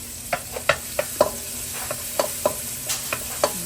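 Onion sizzles in a hot pan for pancit bihon while a utensil stirs it, giving repeated scraping clacks over a steady frying hiss, close up.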